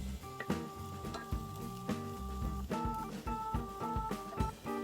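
Garlic goes into a hot pan and sautés with a soft sizzle, while utensils clink and scrape against the pan, close by; steady tonal background music plays throughout.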